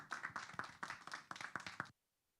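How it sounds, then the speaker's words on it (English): A small audience claps for a bishop about to speak, a short run of distinct, fairly close hand claps with an uneven rhythm that stops abruptly after about two seconds, leaving silence. "Could we all please give him a round of applause?"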